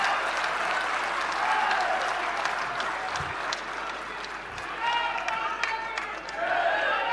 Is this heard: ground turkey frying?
no